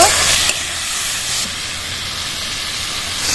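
Spice paste with salt and turmeric fries in a pan, a loud, continuous hiss and sizzle that surges briefly a couple of times before settling back to a steady fizz.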